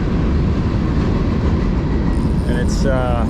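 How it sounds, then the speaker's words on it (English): A train passes close beside the Little Juniata River in central Pennsylvania, a loud steady rumble with rhythmic wheel clatter throughout and thin squealing tones rising near the end. "it's just in time for the 2 o'clock little J train."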